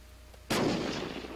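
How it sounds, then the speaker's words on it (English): A grenade goes off in the video game Unturned near gas tanks, a single loud sudden boom that rolls out into a rumbling decay, with no voices. "Let's throw the grenade there."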